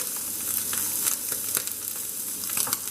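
Liver sears in a hot pan on high heat, giving a steady close sizzle with scattered pops and spits and no talking.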